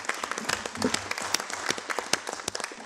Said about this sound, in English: if you could join me to give him a hand of applause for Placide